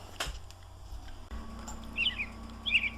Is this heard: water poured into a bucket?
no